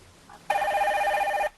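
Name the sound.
telephone ringing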